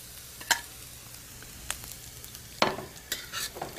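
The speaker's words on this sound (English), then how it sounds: "Fry up the chilies with the cumin seeds." Chilies, cumin seeds, asafoetida and turmeric fry in a pan for a zucchini kurma, giving a faint, low sizzle with a few sharp clicks and stirring scrapes, no voices.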